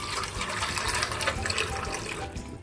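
Water pours and splashes steadily into a container holding dried sea coconut set to soak for a Chinese soup, a close, continuous liquid rush.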